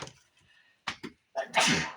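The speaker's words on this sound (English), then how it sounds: "I'm going to sneeze." A single close sneeze: a couple of sharp in-breaths build up, then one loud, explosive burst trailing off with breathy noise.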